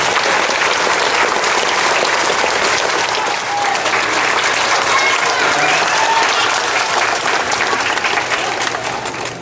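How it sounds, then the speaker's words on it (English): Loud, sustained applause from the audience at a high school awards ceremony in a gym or hall, dense clapping holding steady for several seconds before easing slightly at the end. "So let's give them a round of applause."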